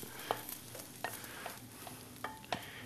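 Browned garlic being added and stirred in a pan while making stuffed pumpkin, soft sizzling under a few clear scraping and clinking utensil strokes against the pan, close and quiet, with no speech.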